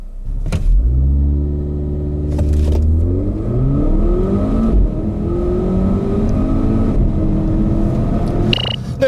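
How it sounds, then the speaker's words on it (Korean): A 2017 Volvo V60 Polestar accelerates hard in an acceleration test. The engine note climbs steadily in pitch and drops briefly at each of several gear shifts, loud and close throughout. "그렇다면 S60 폴스타와 V60 폴스타의 가속 성능에 대해서 한번 알아볼까요?"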